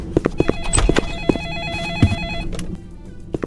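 A telephone ringing in a horror video game about serving ice cream: a steady electronic ring trills over a series of sharp, hoof-like knocks, loud and close, then fades into quieter room tone.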